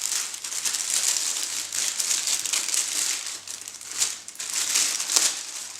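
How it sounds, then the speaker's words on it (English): Plastic bag of RC model airplane parts, a horizontal stabilizer for a HobbyKing C-47 Dakota 1600mm, torn open close by, with steady crinkling and crackling that swells in a few louder bursts and continues throughout. "let's rip open this bag as well"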